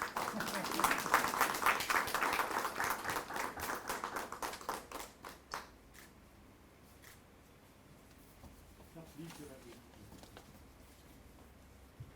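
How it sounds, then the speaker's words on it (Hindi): Audience clapping at a book launch event, a dense burst of claps for the first few seconds that thins out into scattered taps and fades to a quiet room. "बिना संकोच ताली बजाइए।"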